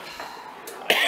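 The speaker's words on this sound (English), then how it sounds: "But now I've got the coughs." A man coughs after eating extremely spicy pizza: one short, sharp cough bursts out close and loud after a brief throaty rasp.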